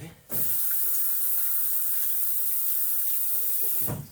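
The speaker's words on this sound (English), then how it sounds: "Just give my hands a bit of a rinse." Tap water runs steadily over hands at a sink, a continuous broadband splashing hiss that starts sharply and stops after about three and a half seconds, close and fairly loud with no talking.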